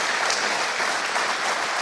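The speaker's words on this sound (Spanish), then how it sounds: "Denle un aplauso al Señor, gloria a Dios." Congregation in a church breaking into sustained applause, a dense steady wash of clapping filling the space at even loudness with no voices standing out.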